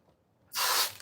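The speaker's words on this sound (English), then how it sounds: "I really don't like this spray nozzle like that." Water sprays from a spray nozzle in one steady, loud hiss lasting about half a second, starting abruptly after near-quiet.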